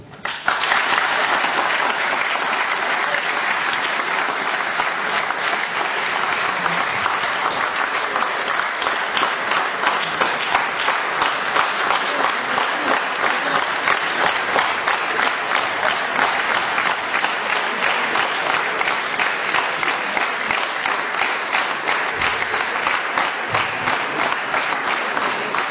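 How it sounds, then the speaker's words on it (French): A crowd at an outdoor political election rally on the Place de la Bourse in Mulhouse breaks into sustained, dense applause that holds steady and loud throughout, with no talk over it. "vous pouvez l'applaudir."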